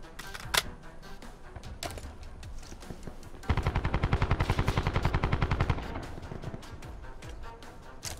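Rapid automatic gunfire in Black Ops 4 Blackout: scattered single shots, then a dense sustained burst of evenly spaced loud cracks lasting a couple of seconds, followed by more sporadic shots.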